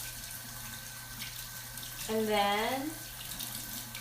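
Tap water runs briefly over makeup brushes being rinsed in a sink, a short splashing gush under a quiet voice.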